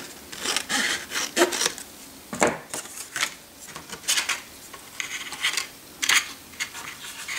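Scissors snip through paper and a tag while a Christmas frame is decorated, giving several close, crisp cuts in irregular bursts with small handling rustles between them.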